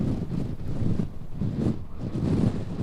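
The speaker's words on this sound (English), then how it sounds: "a live example right now of just how windy it is in Cape Elizabeth" Strong, gusty wind in Cape Elizabeth, Maine roars and buffets the microphone in low rumbling surges, with no one speaking.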